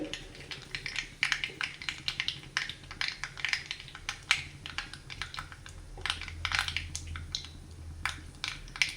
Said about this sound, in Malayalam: അപ്പോൾ കടുകൊക്കെ പൊട്ടി വരുന്നുണ്ട്